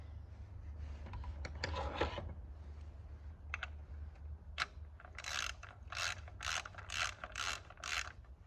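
Ratchet tightening an ignition coil bolt on a 2014 Nissan, a quick burst of sharp clicking, then a few scattered clicks and a run of about six evenly spaced ratcheting strokes, close and clear over a low hum.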